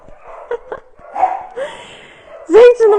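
Dogs bark and yip in a house holding 45 dogs, several short barks early on, then whimpering and a loud close bark near the end, with a person's voice mixed in.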